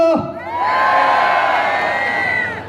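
A golf tournament prize-draw audience shouts and cheers together, a loud sustained crowd roar swelling up after a brief pause and holding steady for a couple of seconds before easing off.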